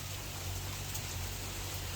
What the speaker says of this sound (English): raining hail. I don't know if you can see it, but that's ice.